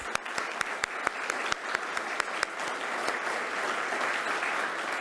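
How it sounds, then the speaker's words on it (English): Audience applause at the 2021 NAJGA Japanese garden conference opens with a few sharp, separate claps that quickly swell into a full, even round of clapping from the crowd, carrying on steadily to the end. "Let's give them a round of applause."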